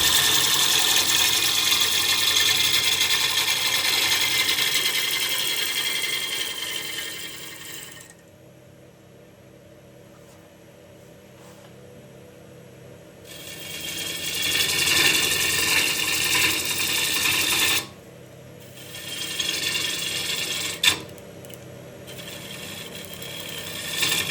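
A bowl gouge roughs the outside of a wooden bowl spinning on a lathe, giving a loud, steady broadband hiss. The cut stops for about five seconds midway, then resumes with a few brief breaks near the end.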